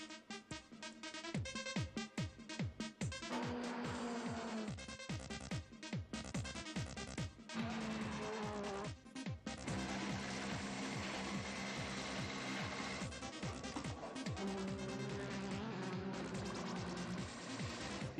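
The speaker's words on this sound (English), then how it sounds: "El motor Chevrolet para el WTCC, en este momento nuestro Power, que empieza de esta manera." Chevrolet 1.6-litre turbo WTCC race engine running hard, a loud, dense, continuous mechanical roar with rapid rhythmic pulses and shifting pitch, heard alone with no voices.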